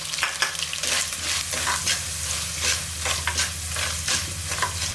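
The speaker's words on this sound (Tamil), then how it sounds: "இந்த வெங்காயம் பூண்டு நல்லா வதங்கும் போது" Onion and garlic sautéing with salt and turmeric for a fish curry, a constant close sizzle broken by repeated stirring scrapes in an even rhythm, with no voices.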